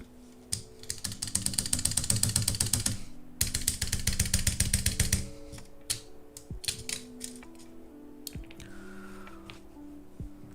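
Repeated presses on a mechanical keyboard key with a loose keycap on a Gateron stabilizer, rapid bursts of close, crisp clacks followed by slower single taps and rattles.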